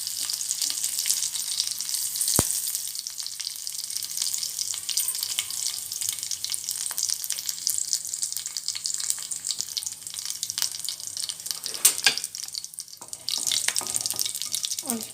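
Curry leaves and a dried red chilli sizzle in hot tempering oil for pachi pulusu, a steady crackling fry with sharp pops and spatters, close and continuous, with no talk over it.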